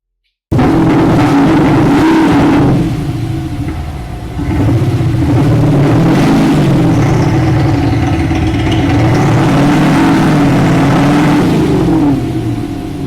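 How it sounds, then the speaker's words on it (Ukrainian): Loud engine-style exhaust note from a MAXHAUST electronic exhaust sound system on an Infiniti QX80 SUV, rumbling and revving, rising and falling in waves for several seconds without pause, no talking. "більше 20 різних, дуже гарних звуків спортивних автомобілів і автомобілів представницького класу"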